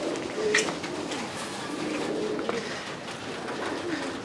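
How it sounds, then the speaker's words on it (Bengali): Pigeons coo softly and repeatedly from a rooftop loft, a low steady murmur of several birds at moderate distance with faint background noise. "আবার এই পরিমাণে কবুতর হয়েছে"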